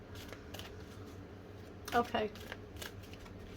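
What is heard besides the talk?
shuffling tarot cards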